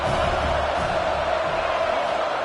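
Stadium crowd noise from the NCAA 26 college football video game, a steady dense roar of many voices cheering on a third down, loud and continuous throughout without pause.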